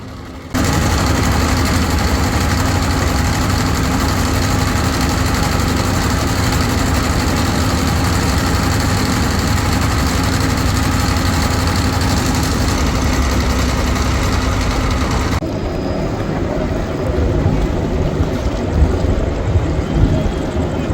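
The engine of a large passenger river launch in Bangladesh rumbles as the vessel departs, a loud continuous low drone with steady vibration that shifts slightly in tone partway through, with no talk.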